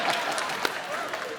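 A studio audience on a TV comedy show claps in a brief, dense burst of applause, fairly close and steady, with a voice faintly mixed in.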